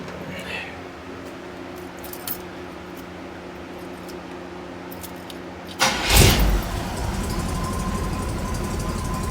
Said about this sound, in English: Let's go ahead and give it a start and see if we're leaking.